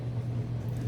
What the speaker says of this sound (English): now I'm going to microwave these for maybe 1 minute to 2 minutes just to melt that cheese